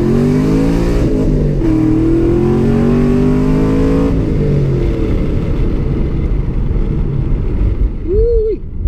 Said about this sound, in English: I wanted to give you guys the taste of the Camaro.